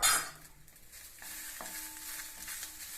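Little millet upma being stirred in a pan with coconut and coriander leaves, a soft scraping stir and gentle sizzle; a sharp burst opens, then the scraping and faint frying continue steadily without talk.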